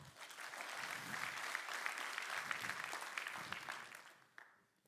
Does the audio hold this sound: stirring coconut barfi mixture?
no